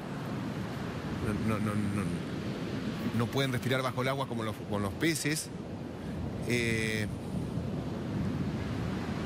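Ocean surf breaks and washes on a beach at Mar Chiquita where seven orcas lie stranded, a constant rough rush with wind buffeting the microphone, while people talk loudly over it.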